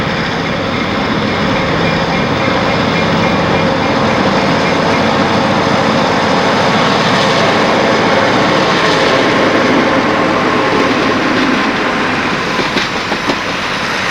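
A 1950s B&O passenger train led by an E6 diesel locomotive passes near JN Tower, a loud, continuous roar of engine and rolling wheels with faint rail clatter, sustained without pause for the whole stretch.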